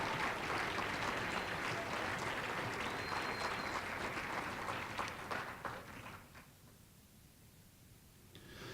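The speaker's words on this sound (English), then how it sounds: "Let's give Sandy a round of applause." Audience at an evening awards celebration honoring community volunteers gives a warm round of applause, steady and full for about six seconds before fading to a quiet room tone, with a few scattered claps returning at the end.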